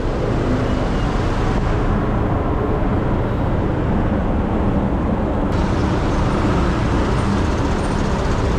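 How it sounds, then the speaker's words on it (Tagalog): Street traffic in a town centre, a dense continuous roar of passing vehicles at steady loudness, close and unbroken, with no talking. "Traffic, na traffic."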